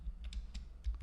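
Keys clack on a computer keyboard as a terminal command for deleting a folder is typed, several quick close taps spread across a second with short gaps between them.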